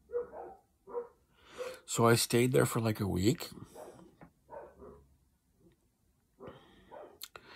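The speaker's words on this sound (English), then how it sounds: "Dogs are really fucking loud over here." Dogs bark loudly and close by in an Austin, Texas neighborhood, sharp yelps breaking through while someone talks over them.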